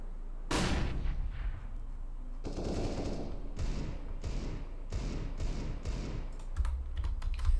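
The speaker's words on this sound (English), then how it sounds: "I'm throwing a flashbang." Counter-Strike: Global Offensive gameplay: a sharp burst goes off early, like a thrown flashbang detonating, then a run of repeated gunfire-like cracks and thuds with keyboard clatter mixed in.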